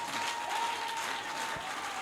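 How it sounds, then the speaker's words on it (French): A church congregation claps in praise of the Lord, a continuous moderate wash of many hands with a faint steady tone beneath and no clear voices. "Une main d'acclamation au Seigneur"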